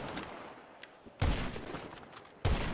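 Automatic weapon fire in the PC version of GTA, with two loud sustained bursts of rapid shots breaking in after quieter background action, each burst dense and close.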